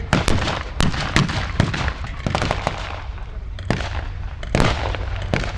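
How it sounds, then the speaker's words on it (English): Loud, irregular volleys of blank gunfire crack out at a WW2 battle reenactment at Tank Fest 2024, light machine guns and a BAR automatic rifle firing single shots and short bursts, some near, some farther off. "They've got some light machine guns. There's a BAR, I can see brand new automatic rifle in use."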